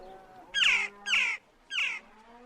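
A bird gives three loud, harsh caws in quick succession as a sound effect in an abridged Famous Five audiobook, each call close and clear against near silence.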